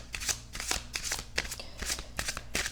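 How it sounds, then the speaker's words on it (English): Oracle cards from the Oracle of Mystical Moments deck being shuffled by hand, a close run of crisp riffling and flicking bursts with no talk. "Just shuffle 3 times."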